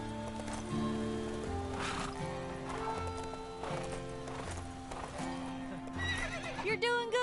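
A horse in the video game LEGO Marvel Super Heroes 2 whinnies and snorts amid clip-clopping hooves and tonal game music, fairly quiet and alone with no talking.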